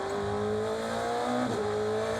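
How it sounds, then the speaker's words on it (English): Onboard a DTM race car at the Lausitzring, the engine drones loudly and continuously, dipping as the driver slows into 2nd gear and then rising again as he accelerates up through the gears. "Back on board with René now as he slows the car down to 2nd gear."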